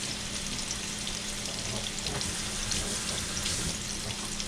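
Plantain slices fry in hot oil in a pan, a loud, constant sizzling hiss with fine crackles and no talk over it.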